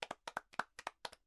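Students in a classroom clap a short rhythmic patterned applause, about eight crisp claps in quick pairs, close and fairly quiet.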